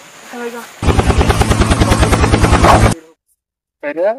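A helicopter passes close by, its loud, steady rotor chop pulsing rapidly for about two seconds before cutting off abruptly, with brief voices just before and after.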